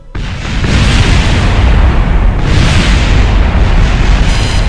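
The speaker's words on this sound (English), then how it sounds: "Let's watch another explosion." Rocket explosion in the video game Kerbal Space Program: a loud, sustained roaring blast with heavy low rumble that swells and stays dense for several seconds, with no voices over it.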